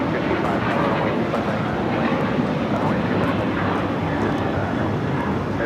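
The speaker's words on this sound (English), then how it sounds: "That was American Airlines 1979 going all the way to Chicago on the 737-800" American Airlines Boeing 737-800 jet at LAX, a steady loud broadband engine roar that holds evenly throughout, close and continuous with no pauses.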